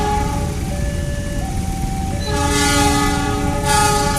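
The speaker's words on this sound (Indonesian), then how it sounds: "Yo, ini kereta api Babarandeknya ya," A train departs Cigading station in Indonesia, its loud horn blaring in sustained tones that shift pitch over the rumble of the moving rail cars, close and prominent.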